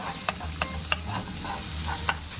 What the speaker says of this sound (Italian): iniziamo a buttare che cosa? Il nostro trito di olive, il nostro trito di capperi, gli diamo una bella girata